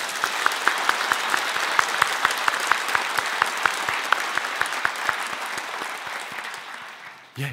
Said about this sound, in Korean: 격려의 박수를 한번 하도록 하겠습니다